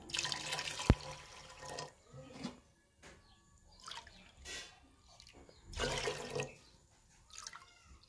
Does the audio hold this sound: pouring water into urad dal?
yes